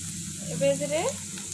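Onions fry in a pan for a kadhai mushroom dish, giving a steady, close sizzle. A brief wavering tonal sound rises over it midway.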